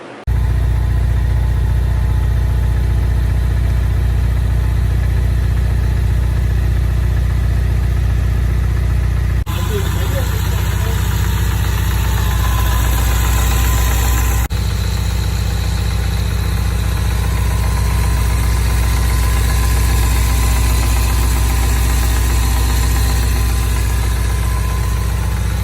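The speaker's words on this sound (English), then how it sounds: "Just because this one had a rod knock" A 2015 Ford Mustang's 2.3-litre EcoBoost engine idling with rod knock, a steady loud mechanical drone that shifts in tone partway through.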